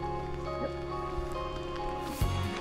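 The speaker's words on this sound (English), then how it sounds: "And it's really raining. It's coming down hard." Heavy rain pours down in Gimmelwald near Lauterbrunnen, Switzerland, as a steady, close, dense hiss that continues without a break and has no voices over it.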